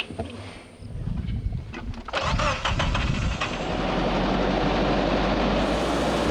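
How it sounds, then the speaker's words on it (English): A vehicle engine, an escort vehicle on a Kenya journey, cranks with a few rough bursts and catches, then settles into a loud, continuous, uneven rumble while running on only three cylinders, close and alone. "It's running on 3 cylinders now."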